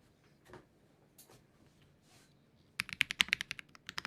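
After a few quiet rustles, rapid clacky keystrokes on a QK80 mechanical keyboard with GMK Serica keycaps ring out close up in a quick, uneven burst.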